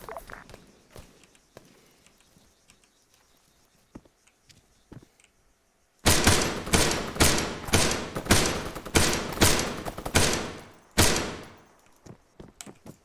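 Rapid bursts of machine gun fire in the military shooter Arma 3, loud close volleys of sharp repeated shots after a quieter stretch of scattered distant pops.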